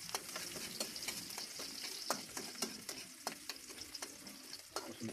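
Onion and garlic sautéing in a pan for a sinigang na sugpo, a steady close sizzle broken by frequent sharp scrapes and clicks of a stirring utensil.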